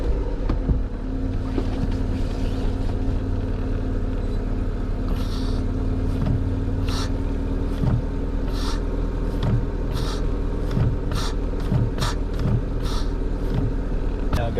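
A Renault Clio 197 Sport on a gentle test drive after a rear brake pad change gives a steady, close engine and road drone with wind rush and occasional knocks and clicks over about fifteen seconds.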